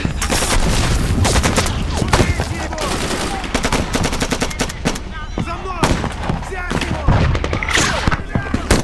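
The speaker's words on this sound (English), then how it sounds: "Who are they firing at?" Loud, rapid bursts of automatic gunfire and scattered shots crack through an action movie battle scene, with booming impacts and voices shouting in between.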